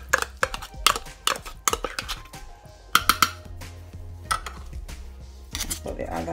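Drained tinned tuna goes into a bowl with a quick run of close clinks and scrapes of a utensil against the dish, several sharp taps scattered across a few seconds, no voice over them.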